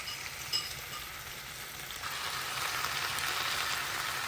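Mixed vegetables sizzle in a pan for biryani at a camp cookout, a soft, steady frying hiss that swells slightly partway through after a small clink.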